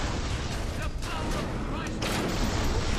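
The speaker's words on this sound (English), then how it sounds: "That was a highly destructive explosion." A big explosion in the first-person shooter BioShock fills the mix as a dense, loud, continuous roar with rumbling low end and crackling bursts, sustained for several seconds.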